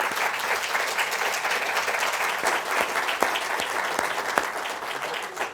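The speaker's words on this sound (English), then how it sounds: "Let's give a round of applause to our panelists," Audience applause for a panel at the close of an Arizona Architecture Foundation evening lecture, a steady wash of many hands clapping with a few sharper claps standing out, sustained at moderate loudness for the whole stretch.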